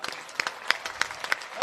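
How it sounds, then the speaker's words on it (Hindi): Applause at a mushaira poetry gathering: a handful of sharp, irregular claps, fairly close, scattered over a second and a half with a faint background murmur. "भाई सभी लोग एक बार जोरदार ताली बजाएं।"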